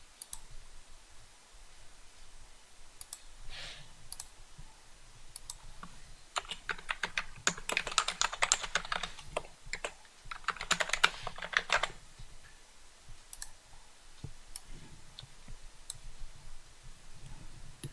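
Fingers type an ID and password on a computer keyboard, a steady run of soft clicks that thickens into a faster, louder burst midway before easing back, with no talking.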